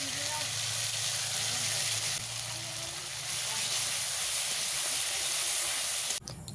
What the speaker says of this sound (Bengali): এরপর দেব বেটে রাখা মশলা, দিয়ে আমি ভালোভাবে নাড়াচাড়া করে ভেজে নেব